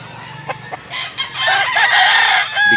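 A large rooster over a year old crows loudly and close, one long harsh call after a few soft clucks.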